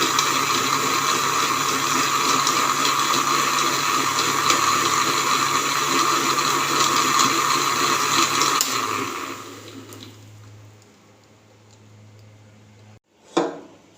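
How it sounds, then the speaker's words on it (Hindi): A kitchen blender grinds fresh plums with their pits for plum juice. It gives a loud, close, continuous whir for about nine seconds, then winds down to quiet, with one brief knock near the end. "गुठलियों के साथ ही आपने इसको ग्राइंड करना है"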